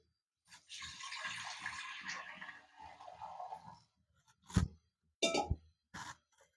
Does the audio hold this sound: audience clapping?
no